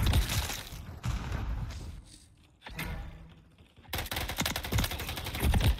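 Gunfire from a weapon in Call of Duty 3 on PS5, heard as dense bursts of rapid shots at the start and again near the end, with a quieter stretch between them.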